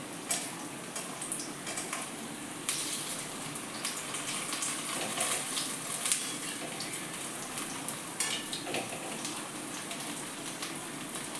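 Rice and pumpkin leaf fritters frying in oil give a soft, constant sizzle with scattered crackles and pops, faint and steady throughout with no talking.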